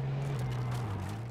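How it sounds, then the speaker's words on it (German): A car driving past in the game H1Z1, heard as a steady low engine drone that drops slightly in pitch as it goes by, continuous and moderately distant. "Auto fährt bei dir irgendwo vorbei."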